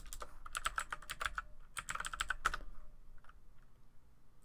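Terminal commands typed on a computer keyboard on a Linux system, bursts of rapid, crisp key presses with short pauses between them that fade to quiet near the end.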